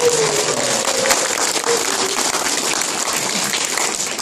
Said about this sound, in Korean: 다시 한번 뜨거운 박수